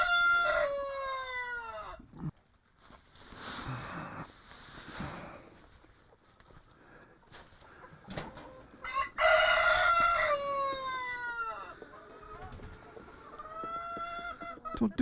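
Chickens near a feed bin, with loud rooster crowing and busy clucking from hens close by, calls coming in bursts between quieter stretches of rustling.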